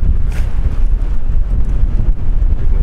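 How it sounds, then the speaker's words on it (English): Strong wind buffeting the microphone at a cold swimming hole, a loud, continuous low roar with gusty surges throughout and no other clear sounds. "But yeah, it's pretty windy."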